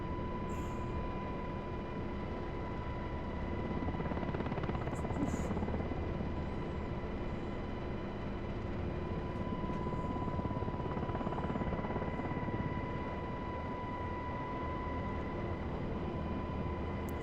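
A UH-60 helicopter flies in a flight simulator game, giving a steady, loud rotor and turbine drone that holds constant throughout with no voices.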